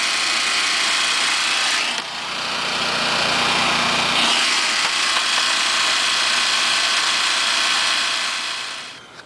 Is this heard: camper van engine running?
yes